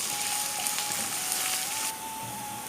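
Spices tempering in hot oil for a dhal (pacheperu) curry give a steady, bright sizzle and crackle, fairly close and unbroken, easing slightly toward the end.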